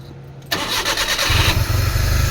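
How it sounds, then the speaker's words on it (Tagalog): A Suzuki DA52 with an F6A engine that misfires and lacks power cranks briefly after quiet, then catches and fires up into a loud, lumpy idle close to the listener. "So pandarin natin ang makina."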